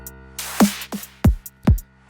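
A bright initial tone on a Roland Zenology Pro synthesizer sounds over a simple drum loop, with thumping kick hits landing roughly every half second.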